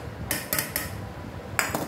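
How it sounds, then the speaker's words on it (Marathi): Cooked dal goes back into a pressure cooker, marked by a few sharp metallic clinks and scrapes of utensil on the cooker, spaced irregularly over a quiet background. "त्या कुकरमध्ये डाळ परत टाकलेली आहे"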